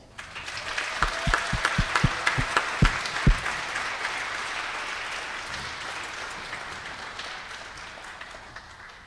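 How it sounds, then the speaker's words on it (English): Guests at a synagogue bat mitzvah ceremony break into applause, with a few sharp close claps early on, then a sustained, even wash of clapping that slowly thins out. "can we start with a huge round of applause?"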